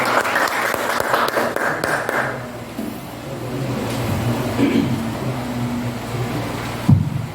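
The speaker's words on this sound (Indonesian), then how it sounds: "Mari kita berikan aplaus." An audience applauds at the official morning opening of a school History Olympiad in Supiori, Papua. A dense burst of clapping lasts about two seconds, then fades into a quieter room murmur and hum.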